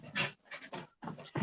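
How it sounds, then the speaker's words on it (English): Dogs doing zoomies indoors, heard as loud, close panting bursts in an irregular rhythm separated by short pauses. "My dogs have decided to wake up and do zoomies in the house"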